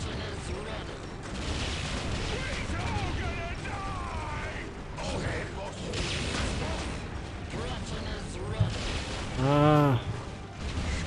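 Orks and Imperial Guard clash in Dawn of War: Ultimate Apocalypse, with a dense bed of gunfire, clanking mechanisms and explosions running throughout. Gruff character voices speak over the battle noise.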